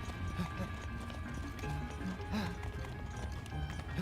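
A horse gallops in Zelda: Breath of the Wild, its hooves making a continuous rhythmic clip-clop under steady game music and ambience, moderately loud throughout.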